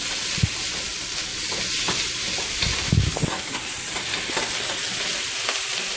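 An egg frying in a pan for a Chinese-style stir fry, with a steady loud sizzle and occasional crackles and spatters throughout and no talking.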